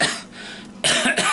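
A single hard cough bursts out close to the mic after a quieter stretch, followed by a shorter second rasp, with no talking.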